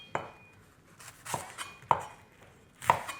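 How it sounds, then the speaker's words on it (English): Kitchen knife slicing red onion on a chopping board, four separate crisp chops spaced about a second apart, close and clear with nothing else around them. "some finely sliced red onion"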